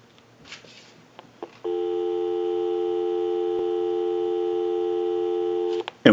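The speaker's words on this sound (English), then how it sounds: "We'll go ahead and give you some dial tone." A Graybar rotary desk telephone line gives a steady, continuous dial tone that sounds clear and close. It holds for about four seconds after a few faint clicks and ends with a click.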